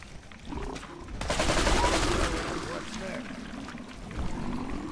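Gunfire in the game Fallout 4: a dense burst of shots erupts and rattles on for a couple of seconds before easing into a busy background, while a voice talks over it.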